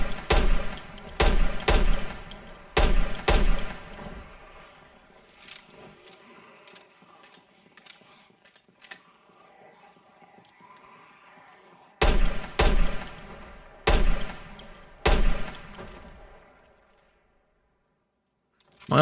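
Gunfire in Project Zomboid: a rapid volley of sharp, loud shots with metallic ringing tails, a quieter gap with faint clicks and pings, then another burst of four heavy shots before near silence.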